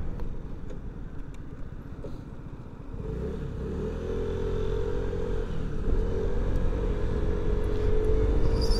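A Vespa GTS 125 scooter rides through a small town with a steady engine drone that builds as it accelerates, its pitch rising and levelling, close and continuous with wind rumble and no talk.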